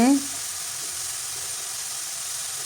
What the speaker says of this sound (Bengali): মশলা প্রায় আমার কষানো হয়ে গেছে তেল উপরে উঠে এসেছে